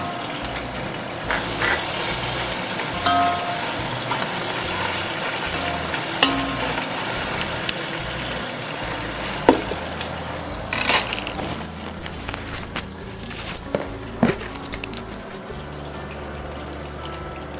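Onions with ginger garlic paste sizzle and fry steadily in a pan, a close, continuous crackle with occasional stirring scrapes and no talking.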